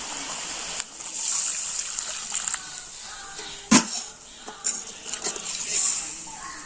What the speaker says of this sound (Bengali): আর এখন আমি দিয়ে দিচ্ছি জল